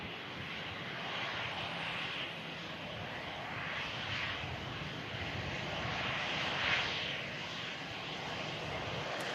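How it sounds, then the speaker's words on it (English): An EasyJet Airbus A320 airliner on approach to land gives a steady, broad engine roar, moderately distant and even in level throughout, with no talk over it. "This EasyJet coming in from Lisbon. EasyJet flight 2210. It's an Airbus A320."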